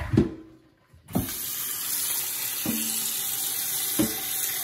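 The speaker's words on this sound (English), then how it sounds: "I'm gonna put it with cold water." Cold tap water runs steadily into a cooking pot for homemade rice and peas, a continuous hiss of filling water broken by a few sharp metallic clanks of the pot.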